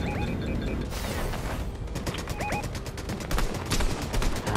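Rapid bursts of gunfire in the video game Fortnite, sharp repeated shots crackling over busy game noise, with a voice talking faintly underneath.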